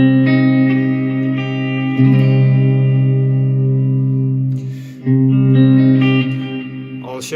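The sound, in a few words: guitar bar chord on the 5th string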